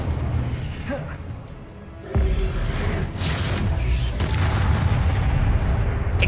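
Incendio fire spell cast in the video game Hogwarts Legacy, a sudden loud whooshing burst followed by a sustained roaring crackle of flame, with a few sharp pops over a busy combat background.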